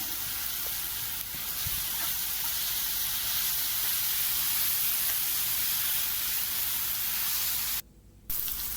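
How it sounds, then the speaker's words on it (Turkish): Spinach and onions sauté together in oil in a pan, giving a steady, fairly loud broadband sizzle that runs almost unbroken, with one brief dropout near the end. "Ispanağımı döktüm gördüğünüz gibi kavrulmuş soğanların üzerine bunu ikisini beraber kavurmaya başladım tekrardan."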